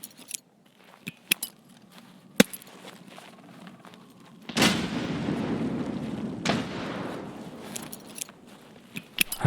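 Grenade blasts in Escape from Tarkov: one heavy explosion booms and rumbles with a long decaying roar, then a second hit follows, with scattered sharp clicks and gunfire-like cracks before and after.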